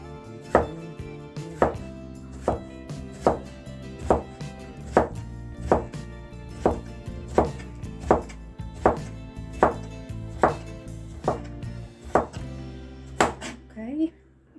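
A knife chops a scrubbed, unpeeled cucumber into quarters on a board, giving a steady series of sharp, close taps roughly every half second, with a brief clatter at the end.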